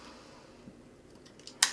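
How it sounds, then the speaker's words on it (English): The tip of a pair of scissors punches a hole through paper laid on a puncture-resistant cutting mat, a quiet rustle ending in one sharp, close snap-like click. "So I can take the tip of my scissors and punch a little hole"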